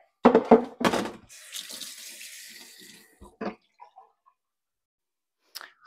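Tap water runs into a kitchen sink for a couple of seconds while a cutting board is set down, with a few knocks before and light clinks after, close by and fairly quiet.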